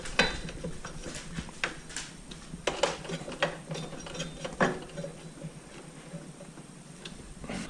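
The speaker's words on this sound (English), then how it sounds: "then torque them down tight with the screwdriver" A screwdriver ratchets in quick clicking bursts while tightening screws on a Concept 2 rowing machine during assembly, the close, repeated ticks coming in uneven runs over a low background hum.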